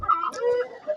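A rooster kept for poultry rearing gives a short run of close, soft clucks, with a slight pause between the notes and no voices heard.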